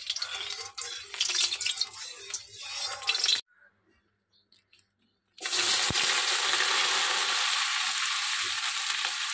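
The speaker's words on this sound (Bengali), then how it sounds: "খুন্তিতে মনে হয় জল ছিল, চিরবির করে উঠছে।" Hot oil in a wok with sliced bitter gourd, potato and onion spits and sizzles loudly where water on the spatula hits it. The sizzle breaks off into near silence for about two seconds, then returns at full strength.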